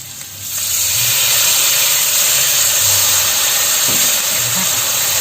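Water poured into a hot frying pan of sugar, kaffir lime leaves and Indonesian bay leaves for a papaya leaf stir-fry bursts into a loud, steady hiss of steam and sizzle that begins half a second in and continues unbroken.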